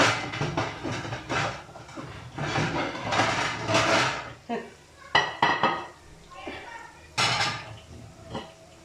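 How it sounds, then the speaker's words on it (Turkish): A frying dish and pans clatter and scrape in quick bursts, metal and crockery knocking together at close range with short pauses between. "Şu kızartma tabağını değiştireyim."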